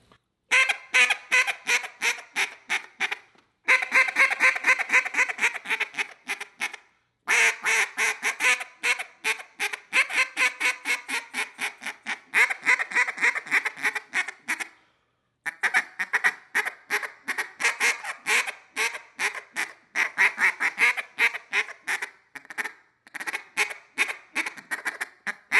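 A duck call blown as a bouncing hen: quick runs of short nasal quacks in bouncing cadences, broken by brief pauses, repeated for about twenty-five seconds, close and clear with no voices.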